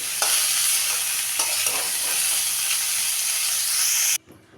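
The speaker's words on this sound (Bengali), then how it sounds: "একটু লালচে করেই ভেজে নেব, গোল্ডেন ব্রাউন হওয়া পর্যন্ত একটু ভেজে নেব।" Cauliflower frying in oil until golden brown, a dense, steady sizzle with occasional stirring scrapes, close and loud, cutting off abruptly near the end.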